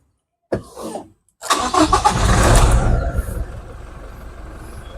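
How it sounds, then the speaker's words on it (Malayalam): A 2022 Toyota Innova Crysta engine cranks briefly, then catches and roars loudly before settling into a steady idle, close up with no talking. "ഇനി നമുക്ക് ഇതൊന്ന് സ്റ്റാർട്ട് ചെയ്ത് സൗണ്ട് ഒന്ന് കേൾക്കാം"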